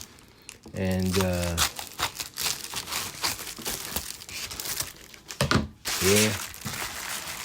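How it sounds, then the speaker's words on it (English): Cardboard packaging for a carbon monoxide and smoke detector is cut and pulled open, giving crinkling, tearing rustles at close range, broken up by someone talking over it. "So let's open it so that you can see it. Maybe smaller than that. So let's cut this box for you guys."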